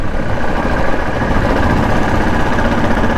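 A retro-styled Royal Enfield Bullet motorcycle engine running steadily nearby, a loud continuous low mechanical throb with even vibration and no voices.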